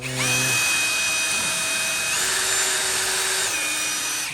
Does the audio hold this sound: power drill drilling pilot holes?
yes